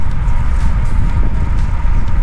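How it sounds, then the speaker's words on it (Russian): A strong, gusty crosswind hits a cyclist riding an Evolve CIMA road bike with a 650-gram frame, making a loud, continuous roaring buffet of wind noise at the microphone with no other clear sounds. "Очень сильный боковой ветер, прям порывы"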